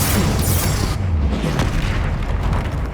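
A Confringo spell explodes in Hogwarts Legacy, a loud, full boom with a rumbling tail that fades over a few seconds amid lingering crackle and game effects.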